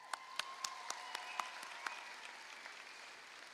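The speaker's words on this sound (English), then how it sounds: "Let's give ourselves a huge round of applause." Graduates applaud at a 2018 valedictory speech, sharp separate claps at first that thin into a faint, scattered patter fading out over a few seconds.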